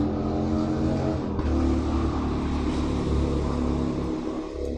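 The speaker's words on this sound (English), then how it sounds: "If you voted that was a motorcycle, you are correct." A motorcycle engine revs loudly and steadily, its throaty drone holding close and continuous with slight swells in pitch throughout.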